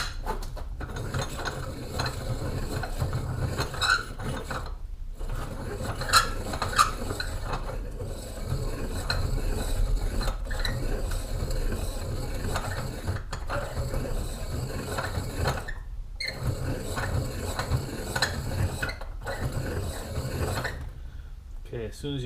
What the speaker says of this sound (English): Got one of those hand